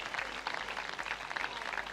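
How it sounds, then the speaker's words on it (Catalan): Audience applause at a men's rink hockey final at the Catalan championship, a faint, steady patter of clapping from a distant crowd. "vagin preparant els aplaudiments"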